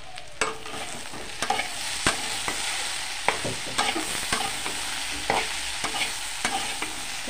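Food frying in mustard oil in a kadai is stirred with repeated scraping strokes against the pan over a steady sizzle, close and moderately loud, with no talk.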